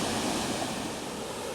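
Water let out of Wyangala Dam pours into the Lachlan River, a loud, steady broadband roar of rushing water that fills the whole moment without a break.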